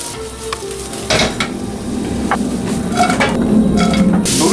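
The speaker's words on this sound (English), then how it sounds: "You have to stir the onion and bacon together" Onion and bacon stirred as they fry in a spoonful of olive oil for cream tteokbokki, a steady close sizzle with scraping spatula strokes and light clinks that grows louder toward the end.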